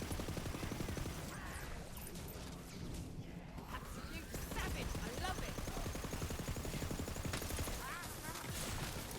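Continuous dense gunfire in the Wonderlands video game, rapid overlapping bursts and crackling impacts forming a loud, unbroken wall of noise with a voice speaking underneath.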